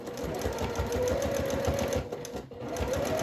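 A sewing machine back stitches through bulky layers where trim meets on reversible shorts, a fast steady mechanical whirr with a rapid needle rhythm running continuously and close, with a brief dip partway through.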